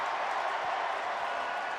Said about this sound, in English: The Coug fans are applauding. They're cheering.